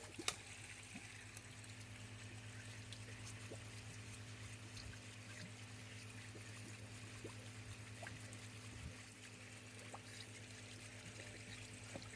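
Water flows and trickles steadily from a pond filter on back flush while new koi are added, faint and continuous with a low hum underneath and a few small clicks.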